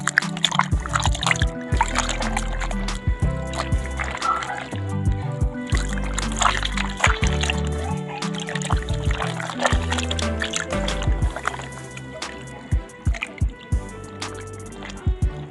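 Vegan brisket washed by hand in water, with repeated wet squishing, dripping and sloshing splashes, close and busy throughout, in an irregular scrubbing rhythm.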